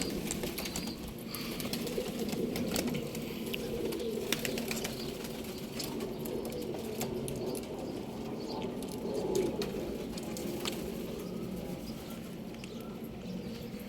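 Flock of pigeons coos steadily close by, a low rolling murmur that continues throughout, with scattered bursts of wing flapping as birds take off from the loft.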